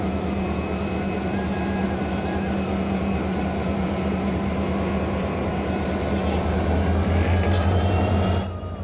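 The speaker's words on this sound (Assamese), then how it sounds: "ইঞ্জিন বোলে বেয়া হ'ল তো এতিয়া নতুন এটা ইঞ্জিন চেঞ্জ কৰিব" A train locomotive is changed and coupled at a station, giving a continuous loud engine drone and rumble that swells toward the end before easing off.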